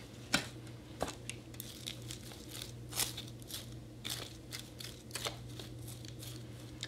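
A pencil stirring a teaspoon of fertilizer granules into potting soil at the bottom of a can, giving irregular close gritty scrapes and crunchy scratches over a low steady hum.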